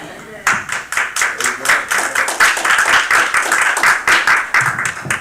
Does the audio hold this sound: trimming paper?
no